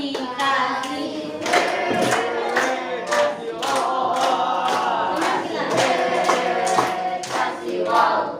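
Classroom of children clapping in rhythmic patterned bursts together with group chanting voices, loud and close, repeated claps forming a practiced cheer.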